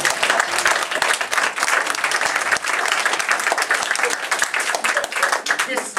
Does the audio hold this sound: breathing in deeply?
no